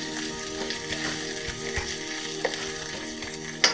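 Ginger paste spits and sizzles in a hot pan after cumin seeds, a continuous frying hiss close by, with a few light utensil taps and a sharper clink near the end.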